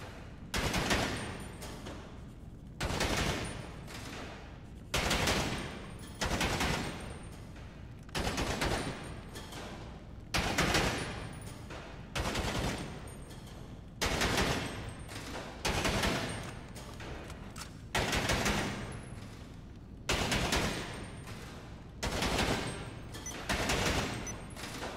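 Sustained bursts of gunfire in GTA Online, loud and rapid, repeating roughly every one to two seconds in a steady rhythm of volleys, with no talking.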